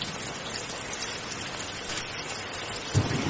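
Steady rain falling, a dense continuous hiss of drops near and loud throughout, with a brief low thump near the end and no voices.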